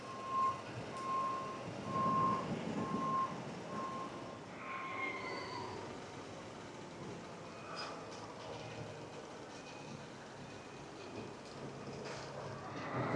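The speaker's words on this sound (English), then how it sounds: "Let me just wait for this thing to stop beeping" A vehicle's reversing alarm beeps in a steady, regular rhythm at moderate distance at a roller coaster construction site at Knott's Berry Farm, then stops, leaving low engine and machinery rumble.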